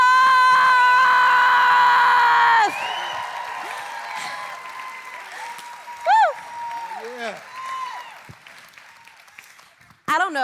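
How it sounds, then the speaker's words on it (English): An audience at a student event gives a round of applause mixed with loud whoops and cheers at the start, settling into fainter clapping while a person speaks over it. "Let's give them one more round of applause."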